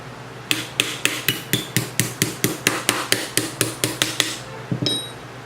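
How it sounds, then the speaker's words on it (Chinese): A metal insert pin is tapped back into an airsoft Kar98K rifle with about sixteen sharp, evenly spaced hammer blows at close range, followed by a brief metallic clink, with no speech. "你先把这支插片敲回去"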